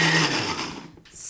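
A kitchen blender whirs through basil, almonds and freshly grated parmesan for pesto, a loud, steady motor whine that dips briefly near the end before surging again.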